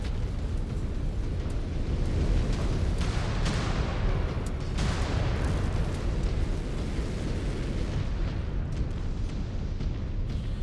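An enemy mech blows up in Mechwarrior 5 Clans, a long rumbling explosion with crackling debris bursts that roll on steadily for several seconds.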